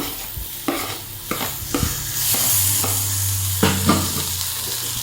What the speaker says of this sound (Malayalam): നമുക്ക് തക്കാളി ചേർത്ത് കൊടുത്തിട്ട് നന്നായിട്ട് വഴറ്റിയെടുക്കാം